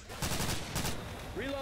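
Rapid video game gunfire in a dense burst of shots, loud and close, with a voice starting to speak at the very end.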